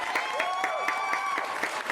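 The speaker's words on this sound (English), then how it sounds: "You get a round of applause" A short applause sound effect, a crowd clapping with distinct rhythmic claps and a faint tonal layer underneath, steady and fairly loud for about two seconds.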